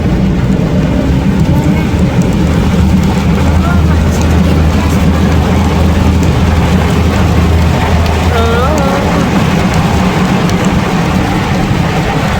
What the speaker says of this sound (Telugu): మేము కరెక్ట్‌గా స్టార్ట్ అయిన ఒక 15, 20 మినిట్స్‌లో రెయిన్ అయితే స్టార్ట్ అయిందనమాట.